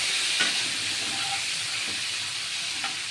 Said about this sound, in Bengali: বড় কড়াই নিয়েছি সমস্ত সবজি সুন্দর করে ভাজা হয়ে যাবে